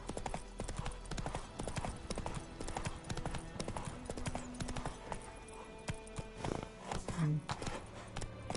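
Roach, a horse in The Witcher video game, gallops with a rapid, rhythmic clip-clop of hooves, loud and close, accompanied by a brief whinny near the end and faint ambient game sound.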